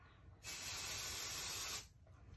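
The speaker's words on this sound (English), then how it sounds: "I spray the spray directly onto the fabric item itself" A steady aerosol hiss from an adhesive spray can onto fabric, about a second and a half long, close and bright, starting and stopping abruptly.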